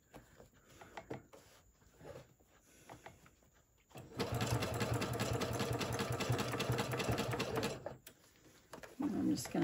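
Sewing machine stitching a zigzag through thick tote fabric, a loud steady rapid whir for about four seconds after quieter handling noises, stopping and then starting again briefly at the end.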